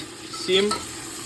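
Carrots and onion sizzle gently in a cauldron while a utensil briefly stirs and scrapes them, heard up close.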